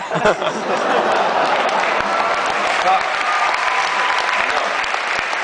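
A large audience applauds steadily and loudly throughout, with a few chuckles mixed into the dense clapping.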